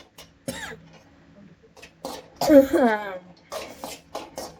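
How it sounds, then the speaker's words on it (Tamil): A few short, sharp coughs spaced apart, close by, with soft vocal sounds between them in a quiet room. "இருமல் வேற வரும்"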